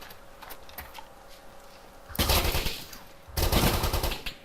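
Two loud bursts of automatic gunfire in the military shooter Arma 2, each lasting about a second, breaking a quieter background of faint distant pops.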